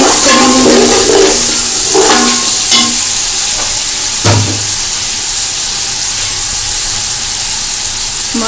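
Carrots and vegetables stir-frying for spicy Chinese fried rice, with a steady loud sizzle broken by several sharp scraping stirs of the spatula, the hiss carrying on alone.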